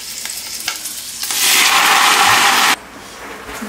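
Garlic and rehydrated seaweed stir-fried in hot sesame oil in a pot, a loud, close sizzle that swells suddenly with stirring and then cuts back to a low crackle.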